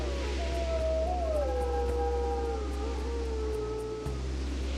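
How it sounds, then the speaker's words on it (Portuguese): A dog howls in a long, wavering tone that rises and falls for several seconds, close and loud over a low rumbling background, with no clear barks. "Um latido ecoa, agudo e próximo. Depois, mais uma. Cães."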